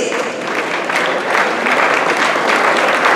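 Steady, dense applause from a large audience at a gala dinner honoring scholarship students, filling the room at an even, sustained loudness for about three seconds with no voices above it.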